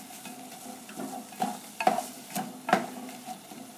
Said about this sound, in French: Je mélange à l'aide d'une cuillère en bois. Et à présent, je laisse mijoter pendant 20 minutes